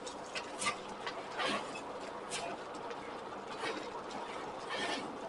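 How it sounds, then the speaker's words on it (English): A blacksmith's forge blower runs steadily as a continuous whirring mechanical drone, with faint rattling clicks over the top and no talk. "So like I said, I have the blower."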